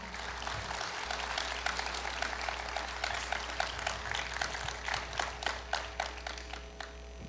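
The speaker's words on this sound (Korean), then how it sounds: "큰 박수로 맞이해 주시기 바랍니다" An audience applauds at a Korea University anniversary ceremony, a dense steady clapping that fades into scattered claps near the end, heard from a distance over a low hum.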